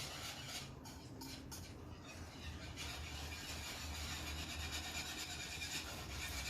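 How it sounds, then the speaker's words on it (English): A mornay sauce of grated cheese, pepper and salt is whisked in a pan for a tuna pasta bake, giving a steady, continuous scraping and swishing close by, with no talking. "Whisk that around so it melts."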